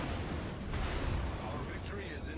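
Battleship main-gun fire from the North Carolina in World of Warships: a deep, rumbling boom with a rolling low tail, loud and continuous, under a steady game soundscape with no talking.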